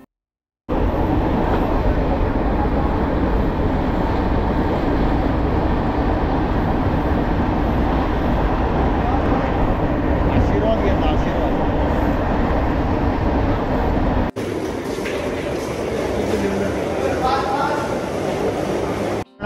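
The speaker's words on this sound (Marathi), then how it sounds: "फायनली आपली ट्रेन लागलेली आहे, हे बघा बाजूला." A train rumbles steadily at a platform with loud, continuous mechanical noise, which cuts off abruptly into quieter station ambience with voices.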